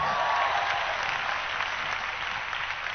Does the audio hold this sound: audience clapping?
yes